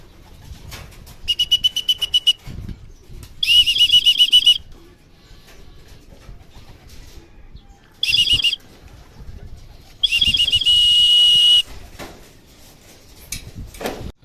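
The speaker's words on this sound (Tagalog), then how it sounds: "Ayan, nag-abot-abot na yung mga ibon." Racing pigeons returning from a training flight in Aliaga, Nueva Ecija, arriving and landing, with bursts of loud wing flapping and clattering between quieter stretches of outdoor background.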